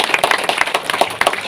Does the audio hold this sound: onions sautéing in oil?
no